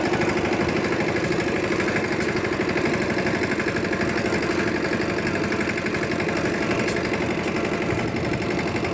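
A new tractor's engine runs steadily and loudly for the whole stretch, a dense, unbroken mechanical drone with no voices over it.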